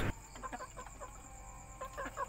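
Several chickens in a coop at night cluck softly in short, scattered bursts close by, over a steady faint electrical hum.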